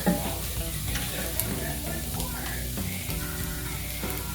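Stroganoff browning in a pan, a close steady sizzle broken by stirring and scraping strokes, with a faint voice in the background.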